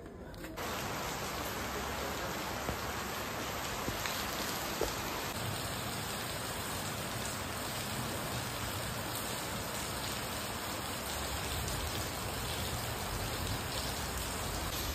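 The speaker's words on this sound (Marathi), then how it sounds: "आणि पावसाने पूर्ण जोर घेतलाय" Heavy monsoon rain pours at night in a coastal village, a dense, steady hiss of drops on surfaces that holds at an even, fairly loud level throughout, with no voices.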